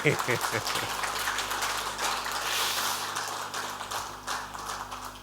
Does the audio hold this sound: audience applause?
yes